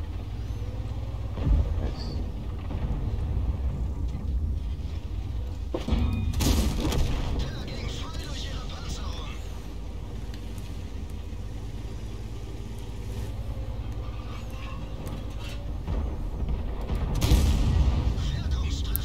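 Booming tank cannon shots in the video game World of Tanks, a few heavy blasts over a constant low engine rumble, with someone talking over the game audio.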